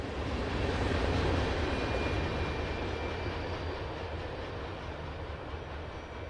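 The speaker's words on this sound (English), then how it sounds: "NS Local L96 as it travels up the NS Huntington District" Norfolk Southern local freight train L96 rolling along the Huntington District near New Haven, Indiana, a loud low rumble of cars and wheels passing close, swelling then slowly fading.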